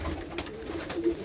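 Soft cooing from a Kabra-breed pigeon, a few low murmuring coos close by over faint background noise.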